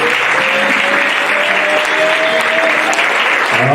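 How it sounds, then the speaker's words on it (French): A church congregation applauding the Lord while standing, a loud, dense and continuous wash of clapping filling the space, with faint voices mixed into the crowd. "restez debout, on acclame le Seigneur."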